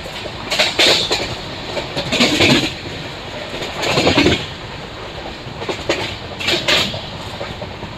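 Janmabhoomi Superfast Express 12805 running on rails between Nadikude and Secunderabad, a steady rolling rumble with rhythmic clickety-clack bursts from the wheels recurring every second or two, heard close from aboard.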